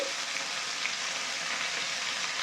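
Ginger-garlic spice paste fries in oil for a mustard rohu fish curry, giving off a soft, even, continuous sizzling hiss with no breaks.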